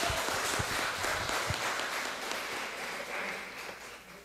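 Applause from a church congregation at an evening service, a dense, steady wash of many hands clapping, close and sustained throughout.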